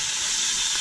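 Brook trout freshly caught ice fishing in Maine sizzle in a hot pan just after being flipped, a loud, steady, hissing sizzle heard close up with no talking.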